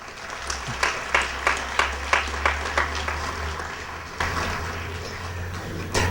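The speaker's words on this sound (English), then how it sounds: "please give them a round of applause." Scattered applause at a UN Day tea gathering, a few distinct claps in a loose rhythm over a low steady hum, then a brief renewed burst near the end; moderately distant.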